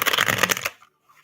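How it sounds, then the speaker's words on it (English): A quick, dense riffle of a thick tarot deck lasting under a second, loud and close, then stopping into near silence. "I always like to shuffle my cards."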